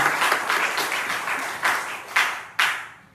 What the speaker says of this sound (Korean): 우리 위에서 박수 한번 쳐주실까요?